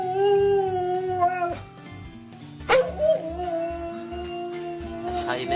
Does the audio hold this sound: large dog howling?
yes